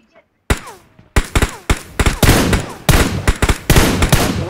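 Rapid bursts of gunfire in the battle-royale game PUBG Mobile, loud sharp shots in irregular clusters following a brief quiet start, with occasional faint chatter.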